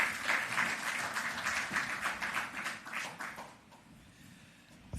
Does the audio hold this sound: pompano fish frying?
no